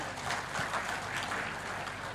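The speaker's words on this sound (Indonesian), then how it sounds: "Tepuk tangan dulu untuk Asosiasi Pariwisata." A crowd at an opening ceremony applauds the provincial tourism association of Riau Islands, a soft, continuous wash of clapping heard from a distance without pauses.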